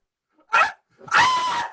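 Dog barking during an online theatre performance of Ubu Roi: a short yip followed by a longer, loud bark, close to the microphone with no other sounds around it.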